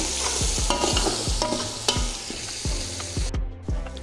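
Masala and ground spices frying in a pot for beef pulao, a steady sizzle broken by repeated scraping stirs of a spoon against metal, close and busy.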